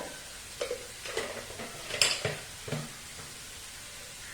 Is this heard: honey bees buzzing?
no